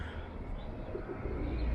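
Pigeons in Toronto's Garden District cooing in soft low repeated calls, faint against steady outdoor street rumble, with no talk.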